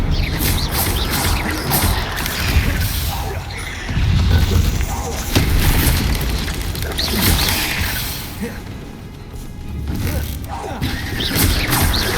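Spell blasts cast in rapid succession during a Hogwarts Legacy duel, loud booming and crashing bursts layered over busy combat effects, with a player shouting spell names throughout.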